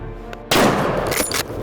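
A rifle shot during a driven wild boar hunt in Hungary: one sharp, loud crack bursts out of quiet outdoor background and decays into a brief rumbling echo, with no talking.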